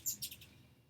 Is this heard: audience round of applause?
no